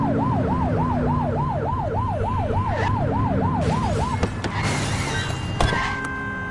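Police car siren in the Precinct video game, a rapid repeating wail that cycles about a dozen times, then cuts off into traffic noise and clicks. No one speaks.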